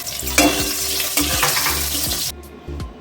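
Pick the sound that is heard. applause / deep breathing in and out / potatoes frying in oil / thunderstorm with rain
potatoes frying in oil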